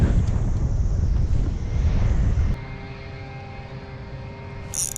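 Strong, cold wind gusting across an outdoor riverbank, a loud continuous roar buffeting the microphone that drops to a steadier, lower rush partway through.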